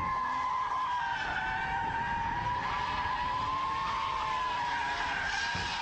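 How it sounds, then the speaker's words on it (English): Car tires squeal in a sustained power-slide skid while drifting, a continuous high screech over a steady engine roar as the car slides. "we need the power slide"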